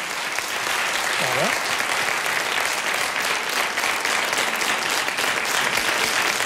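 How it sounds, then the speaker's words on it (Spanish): Steady studio audience applause for the ONCE on an afternoon television show, loud and even clapping that runs the whole length, with a brief spoken word underneath. "Un aplauso para la ONCE"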